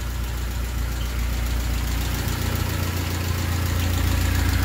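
A car engine with noisy lifters runs steadily up close, a dense continuous mechanical clatter over a low idle drone, with no talking.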